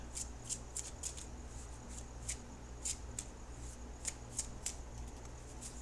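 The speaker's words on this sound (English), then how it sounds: "now I'm going to shuffle for the outcome card." Tarot cards are shuffled quietly, a series of soft riffling flicks and slaps repeating irregularly against a faint background hum.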